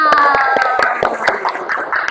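In an Indonesian classroom lesson, a group performs a rhythmic 'tepuk' counting clap game, with sharp, evenly spaced handclaps close by. Chanting voices run through the clapping.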